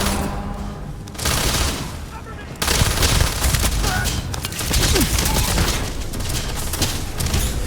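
Rapid submachine gun fire from the sci-fi shooter game Starborn, loud dense bursts of automatic shots running almost continuously, with explosive booms mixed in.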